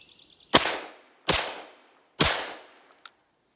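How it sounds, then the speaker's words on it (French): Three Winchester .410 shotgun shells fired from an Armsan 636 semi-automatic shotgun, three sharp, loud blasts spaced under a second apart, each with a short echoing decay, followed by a small metallic click. "on est parti pour un tir de 3 cartouches Winchester"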